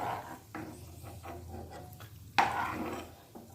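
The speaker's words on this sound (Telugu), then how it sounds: "జీడిపప్పులు కొద్దిగా బ్రౌన్ కలర్లోకి రాగానే ఒక బౌల్లో తీసేసుకుంటున్నాను" A spoon scrapes and clinks against a pan while lightly browned fried cashews are scooped out into a bowl, with a soft sizzle of oil underneath and one sharper metallic knock near the middle.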